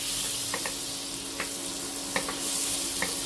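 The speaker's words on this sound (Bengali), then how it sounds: "2 চামচ বাটার দিয়ে দিলাম, 1 চামচ রিফাইন্ড অয়েল দিয়ে ভালো করে এটাকে ভালো করে বাটারটা গলিয়ে নিচ্ছি।" Butter and refined oil melt and sizzle in a pan, a steady soft crackling hiss with an electrical hum beneath and a few light clicks of a utensil stirring, fairly quiet and without talk.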